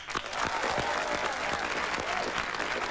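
Studio audience applause for the band on the Dancing with the Stars TV show, a loud, sustained roar of clapping with a few sharper individual claps cutting through.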